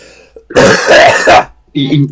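A sharp, harsh cough burst, close and loud, followed by a short bit of speech.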